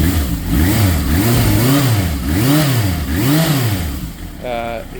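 A Suzuki GS 750 motorcycle with freshly cleaned carburetors revs up and down four times in smooth swells, loud and close, then settles back toward idle.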